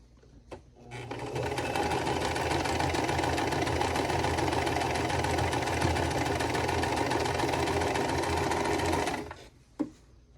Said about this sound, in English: So the square and the squares, we're just sewing every two together.